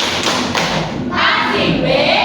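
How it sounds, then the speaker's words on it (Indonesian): Fourth-grade classroom at SDN Pondowan 02 doing a rhythmic clapping cheer, a few sharp loud claps and thumps close by followed by a broader burst of group clapping. "Tepuk W untuk Mas Jabir."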